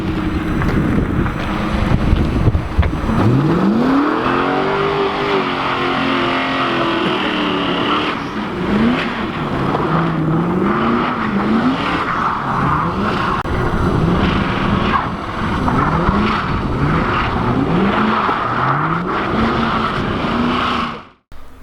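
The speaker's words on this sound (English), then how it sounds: "my buddy was doing donuts in the car" A 1997 Mustang GT spins donuts in the snow, its engine droning and rising and falling in repeated revving swells, with steady wind buffeting the microphone throughout.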